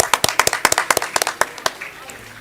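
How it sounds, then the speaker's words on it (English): At a degree certificate distribution ceremony, a few people clap in a quick, sparse burst of distinct sharp hand claps that thins out and fades within two seconds, with a voice speaking nearby. "Can we have a huge round of applause,"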